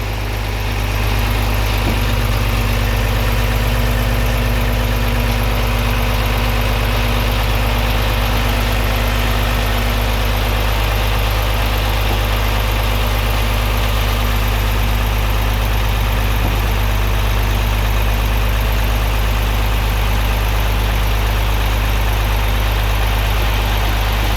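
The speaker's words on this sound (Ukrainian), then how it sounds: "Зараз рівненько висипемо, потихеньку протягуватимемо, щоб гарно висипати." A loaded gravel truck idles with a steady, loud low-frequency engine rumble and vibration while slowly tipping crushed stone for a farm driveway, with no talk over it.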